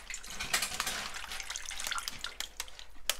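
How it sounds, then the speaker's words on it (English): Pork juices from a Cuban pork shoulder pour into a saucepan, making a continuous close splashing trickle with small drips and a few clinks. "I need to get all of that juice and stuff at the bottom into a saucepan."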